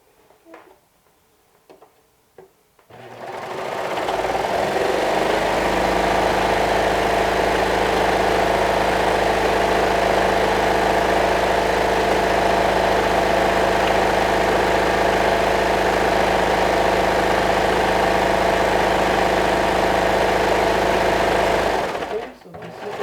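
A sewing machine stitches fabric in one long, loud, even run with a steady whirring hum. A few quiet handling sounds come before the motor starts, and it stops abruptly at the end.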